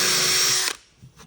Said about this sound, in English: you'll see that this pilot hole also has a little countersink tool attached to it.